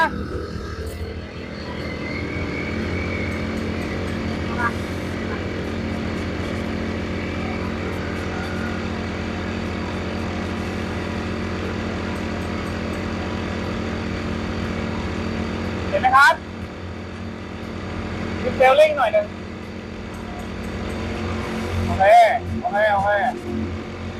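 Two electric scooters, a WINCELL F-435 and a PAYOO PN4035, accelerating side by side, giving a steady motor whine and rolling hum over about twenty seconds, with a few brief knocks and bumps toward the end.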